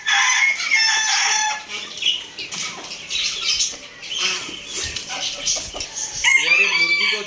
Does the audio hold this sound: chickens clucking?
yes